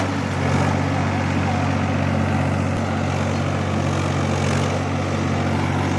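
An Agriking tractor engine idles steadily in first medium gear at about 1400–1500 RPM, a close, constant low diesel drone with no breaks.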